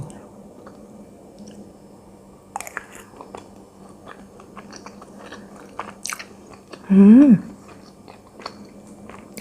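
Someone eats rice from a Tenjo delivery set, with close, soft crunching and squishy chewing bites spread across the clip, followed by a brief voiced hum of approval.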